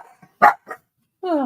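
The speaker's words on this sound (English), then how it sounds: "Get ready for the barks." Several dogs give short, sharp barks close by, with a burst of yelps followed by a longer whining howl at the end.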